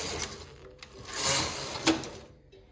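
A knitting machine carriage runs across the needle bed for two rows, giving a soft mechanical rattle and whir that rises, pauses briefly, then sweeps again, fairly quiet and with no talk.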